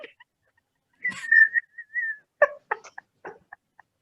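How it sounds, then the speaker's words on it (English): A short high whistled note slides and holds briefly in a quiet room, followed by a few scattered chirpy vocal bursts and small sounds. "What was that high whistle note?"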